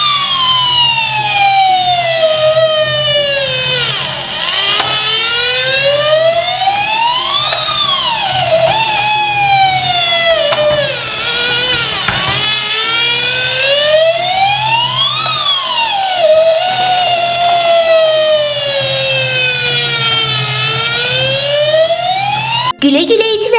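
A cartoon fire engine siren wails loudly and continuously, sweeping up and down in repeated long cycles, with a character's voice faintly heard beneath it.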